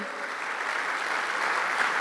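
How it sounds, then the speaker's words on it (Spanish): Church congregation applauding during a sermon, a steady wash of many hands clapping at moderate loudness that holds evenly for a couple of seconds with no voices on top. "Dale un fuerte aplauso al Señor."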